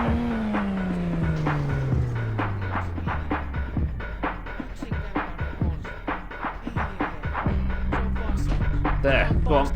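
A car engine in My Winter Car labours and revs repeatedly, its pitch sliding down and then pulsing in uneven bursts, loud and close, with someone talking over it.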